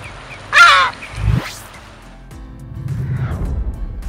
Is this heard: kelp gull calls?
yes